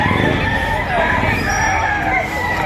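Pullets at a Batangas poultry market cluck and crow in a busy, close chorus, with people talking underneath the constant flock noise.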